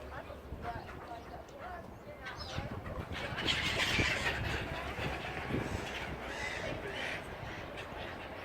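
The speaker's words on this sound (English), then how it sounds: "Someone's feeding the birds." Crows cawing and other birds calling while being fed outdoors in town in Christchurch, Dorset, with a steady hum of street noise and people talking nearby.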